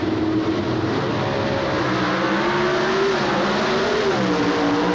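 Drag race cars from the 1988 NHRA Keystone Nationals roar down the racetrack, a loud, continuous engine howl that climbs in pitch as the racers change gears, with no talk over it.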